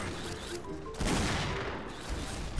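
Gunfire in the shooter game XSHOT, a dense crackling burst of shots with a louder blast in the middle, over continuous game noise.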